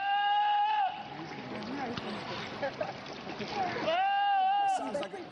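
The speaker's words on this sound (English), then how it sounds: "Here's the screaming goat." A goat screams in a loud, drawn-out, human-like bleat, then screams again after a noisy stretch with jumbled sounds in between.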